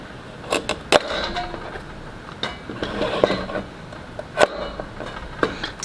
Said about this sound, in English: I'm going to trim off the ends